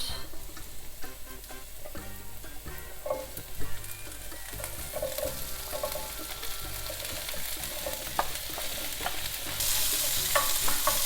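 Chickpeas being stirred and fried in a pan of oil with raisins, pine nuts and onion: a steady close sizzle broken by repeated scraping and clacking of a utensil against the pan, growing slightly louder toward the end, with no talking.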